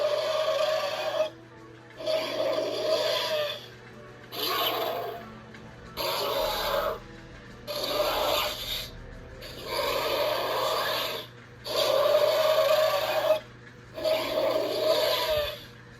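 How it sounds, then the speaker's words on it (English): Mattel reimagined Demon Carnotaurus dinosaur toy playing its built-in sound effects, a run of raspy, growling roar bursts separated by brief pauses over a steady low electronic hum. "there you go with the sound effects for the Mattel reimagined Carnotaurus"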